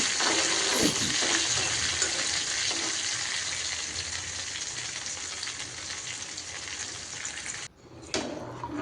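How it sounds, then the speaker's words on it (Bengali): Hot spice tempering hits a pot of mung dal and sizzles loudly and continuously, fading slightly over several seconds before a short break and a fresh burst of frying. "ডালটাও আমি বাগার দিয়ে নিচ্ছি"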